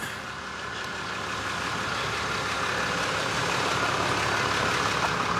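A big diesel truck engine idles close by, a steady broadband rumble with an even, continuous drone throughout and no talk.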